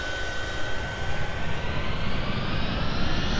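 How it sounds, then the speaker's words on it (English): A Yak-40 jet engine in a flight simulator spools up during a cold-and-dark start. It gives a steady, loud broadband roar with a rising high whine, continuous and close, and no talking. "Left engine ignition."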